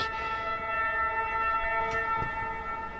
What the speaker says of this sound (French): j'ai laissé passer la sirène de pompier